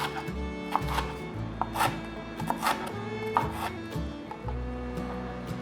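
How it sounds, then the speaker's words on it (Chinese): Knife dicing red bell pepper on a cutting board, a run of sharp, evenly spaced chops close by with soft rubbing between strikes. "把红甜椒切成丁状。"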